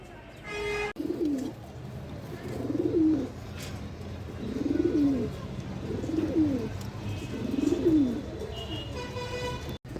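A pair of adult Bukhara pigeons, a white male and a coffee-coloured female, coo in five rhythmic rolling phrases at close range over a low background hum, with a brief click at the start.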